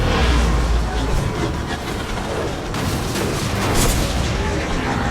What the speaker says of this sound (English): A head-on collision at this speed.